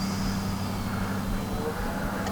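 A Freewing Yak-130 radio-controlled jet making a low, slow flyby, heard as a steady droning whine with a constant low hum, loud and unbroken.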